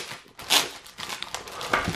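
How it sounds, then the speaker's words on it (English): A plastic bag around a Match Attax 2018/19 deluxe starter pack is pulled open, with bursts of close crinkling and crackling and a sharper tear in the middle. "if we get this plastic bag open"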